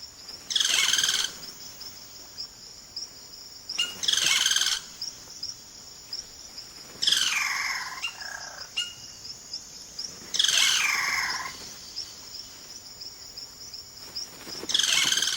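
Loud, liquid cacique bird calls ring out in bursts about every three seconds in the Amazon rainforest, with varied whistles and gurgles over a quiet insect hum.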